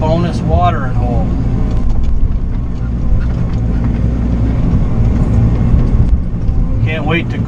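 A Bobcat mini excavator working in deep woods while clearing a road and a watering hole, giving a loud, steady engine drone that runs the whole time with a voice briefly heard at the start and end.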